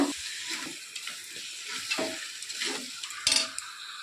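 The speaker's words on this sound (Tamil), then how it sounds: "சிக்கன் எடுத்து வச்சுருக்கேன் அதை இதில் போட்டுக்கலாம் நல்லா கிளறி விட்டுக்கோங்க" Chicken pieces being stirred into frying biryani masala in a pot: steady close sizzle with repeated scraping strokes of a utensil against metal, a sharper clatter near the end, no talk.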